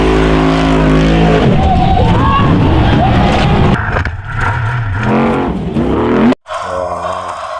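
Toy-car game monster truck racing through mud, its engine roaring and revving loudly and continuously with a busy, gritty mix, cutting out abruptly near the end before a quieter tail.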